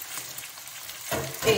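Lamb offal (coratella) cooked with wine crackles and sizzles in a pan, a soft steady frying crackle that swells briefly louder near the end.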